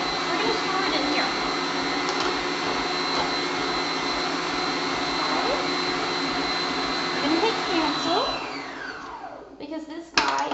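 A food processor whirs steadily as it blends s'mores dip, a loud continuous motor drone with a rattling blade that winds down and stops near the end, followed by a clunk.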